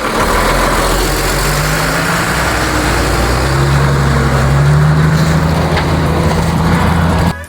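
A car engine rumbles close by and swells a little as if nearing, a low continuous drone with traffic-like noise over it, cutting off abruptly at the end.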